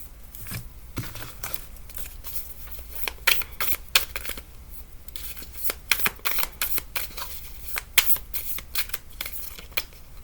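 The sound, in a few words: shuffling tarot cards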